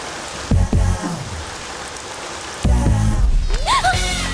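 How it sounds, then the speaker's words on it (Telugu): Steady rain patters and hisses outdoors, filling the whole stretch, with short voice-like bursts and a rising vocal sound near the end breaking through the downpour. "వర్షం పడుతుంది"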